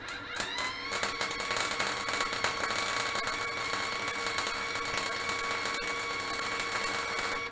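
An Andeli MIG welder runs a weld set to 140, giving a steady, close crackling buzz with dense fizzing spatter that holds at an even level for the whole stretch, with no talk.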